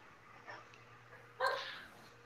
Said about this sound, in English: Oh, the dogs disagree.